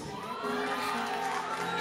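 A crowd at an evening celebration cheers and whoops for a happy family, a steady, dense wall of voices and shouting that holds throughout.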